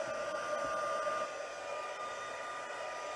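A heat tool blows steadily to melt gold embossing powder on a Stampin' Up! poinsettia card, a continuous close airy whir like a hair dryer with no talk.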